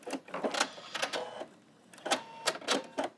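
Sewing machine stitching Christmas tree napkins, with pivots at the corners and a quick back tack, heard as short, quiet bursts of rapid mechanical whirring separated by brief pauses.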